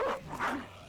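A war dog in the video game Battle Brothers barks twice in quick succession, close and fairly loud, with a short whimpering tail at the end.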